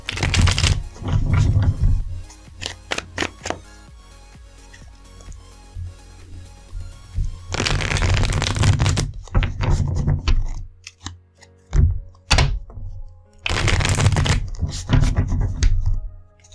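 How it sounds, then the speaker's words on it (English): Tarot cards shuffled by hand in bursts of dense riffling and flicking, with pauses and a few sharp snaps between, close and fairly loud with no voices. "Alright, cards are shuffled up."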